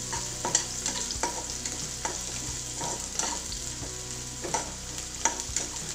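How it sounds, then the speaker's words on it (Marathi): Chopped onion fries in leftover oil in a pan, a steady close sizzle broken by repeated scraping stir strokes, with no voices over it. "या तेलामध्ये आपल्याला कांदा तळून घ्यायचा आहे।"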